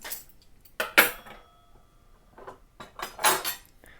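Metal forks from a Riga factory set clink and rattle as they are handled, with sharp close clatters at the start and a second cluster near the end, separated by a quieter stretch.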